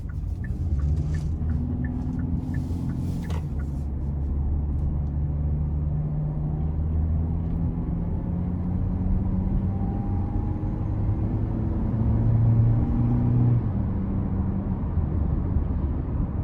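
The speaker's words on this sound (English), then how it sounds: "As you get higher up in the RPMs, you can definitely feel you're getting the most out of the engine." A 2021 Hyundai Kona SE with a 2-liter naturally aspirated four-cylinder accelerates on the road, its engine drone rising in pitch through the revs under a steady cabin rumble, with no voices.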